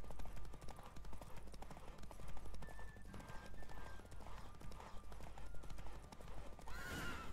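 Hooves pound in a rapid, continuous clip-clop as a horse gallops in a Witcher 3 horse race, with a whinny near the end, moderately close under faint game ambience.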